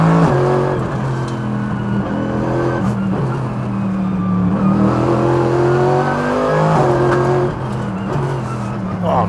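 A Mercedes AMG GT3 race car at full power on a race track, its engine loud and close with a strong, continuous roar that climbs through the revs, dips briefly at a gear change, then pulls again.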